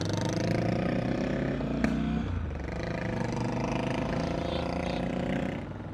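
A Triumph Scrambler 1200 motorcycle engine runs loud and close, revving with a steady throaty drone that dips briefly, then holds before easing off at the end.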